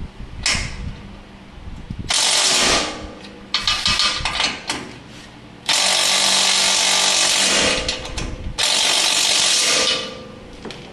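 A powered ratchet with a 14 mm socket works on the front bumper bolts of a Toyota Tacoma in loud, harsh whirring bursts of a few seconds each, separated by short pauses.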